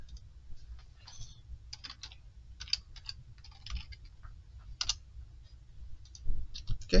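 A computer mouse and keyboard give a scattered run of sharp, close clicks and key taps, irregular and fairly quiet, with a low room hum underneath.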